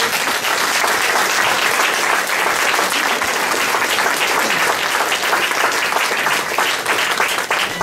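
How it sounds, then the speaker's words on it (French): A village audience applauds at a centenary celebration in Sainte-Agnès, dense sustained clapping from many hands that stays loud and even throughout, with no break in the applause. "Donc on peut applaudir Charles Imbert."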